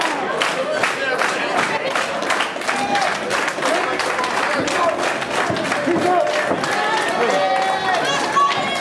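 Wrestling event crowd roaring steadily with scattered cheers, shouts and clapping throughout, a loud, continuous arena din with voices mixed in.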